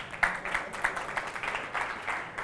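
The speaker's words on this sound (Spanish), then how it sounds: "un aplauso para Hernán." A small crowd claps steadily for a couple of seconds, scattered hand claps blending into moderate applause.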